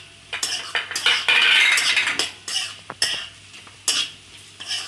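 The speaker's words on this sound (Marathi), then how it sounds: "त्यामध्ये हिरवी मिरची, आलं लसूण पेस्ट घालून घेऊयात।" Onion sautés in a pan as green chili and ginger garlic paste are added, with loud close scraping and stirring of a spoon against the pan over a soft sizzle, in irregular strokes.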